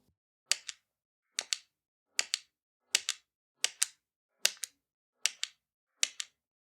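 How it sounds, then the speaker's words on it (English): Eight separate button clicks from a Nintendo NES console controller pad, each a crisp double click of press and release, evenly spaced about 0.8 seconds apart, close and clean against silence. "This is a button sound from a pad from Nintendo NES console."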